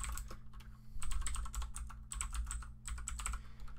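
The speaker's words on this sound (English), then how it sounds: "open up a terminal, and then you want to go ahead and type this following command" Fingers type a command into a Linux terminal on a computer keyboard, a quiet run of quick, irregular key clicks in a few bursts with brief pauses, close up and alone.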